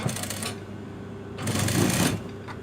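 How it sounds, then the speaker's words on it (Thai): A sewing machine stitches a dress along a basted seam line in a tailor's alteration shop, running in two steady bursts with a brief quieter pause between them. "เย็บตามเส้นนะคะ เย็บตามเส้นที่เรา เนาไว้"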